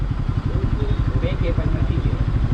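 A motorcycle engine rumbles close by with a low, pulsing exhaust note while someone talks over it.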